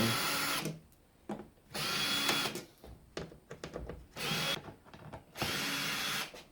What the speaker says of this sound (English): we'll take some screws out and see what's in here